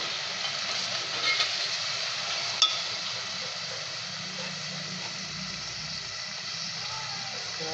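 Fenugreek leaves for aloo methi, with potatoes and onions, frying and being stirred in oil in a pan, making a steady close sizzle with light scraping, and a single sharp clink partway through.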